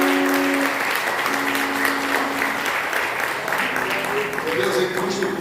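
A church congregation at an evening family service bursts into sustained applause, a dense wash of clapping with a voice speaking over it and sustained musical tones underneath.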